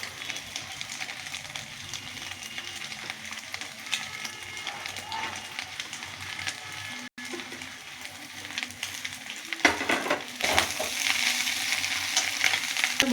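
Egg and vegetables stirred and fried together for mixed fried rice, with a loud, rain-like sizzle throughout. Occasional stirring scrapes cut in, and the frying swells louder near the end; no one speaks.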